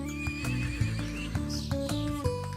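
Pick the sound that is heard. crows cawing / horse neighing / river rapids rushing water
horse neighing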